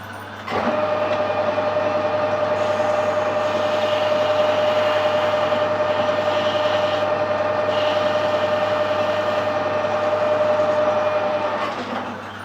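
A lathe cuts a small groove with a parting tool while machining steam brake cylinder drain valve internals, producing a steady, loud whine with a droning hum that holds evenly for about twelve seconds before stopping.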